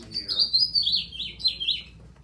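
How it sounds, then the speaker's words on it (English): A house finch sings a quick, bright warble of many tightly packed notes, loud and near, with no other sounds around it. "House finch. A lot of notes crammed in there."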